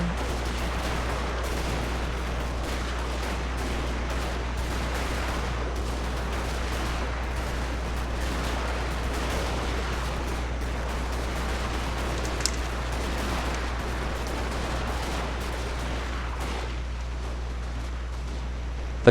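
Mortar and artillery fire rumble through a Civil War battle video game: a continuous, fairly quiet wash of distant booming volleys over a low steady hum, with one sharper crack partway through.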